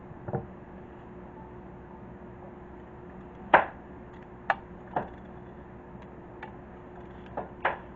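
Skin being peeled off an acorn squash with a knife, heard as a few sparse, soft clicks and scrapes spaced out over a quiet kitchen background.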